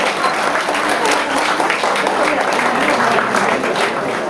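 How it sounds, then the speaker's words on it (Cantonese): Wedding guests clap loudly and steadily during a toast to the newlyweds, a dense, continuous burst of applause from a crowd. "大家再俾啲掌聲鼓勵下啦"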